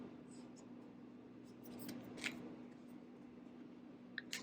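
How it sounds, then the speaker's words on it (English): Tarot cards land in a couple of faint, brief slaps, one near the middle and another near the end, against a quiet room hum. "Let me throw a few more cards around."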